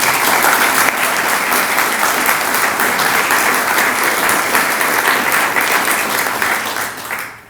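Warm, steady applause from an audience at a poetry reading event, loud and close, holding evenly for several seconds before fading out at the end, with no talking over it.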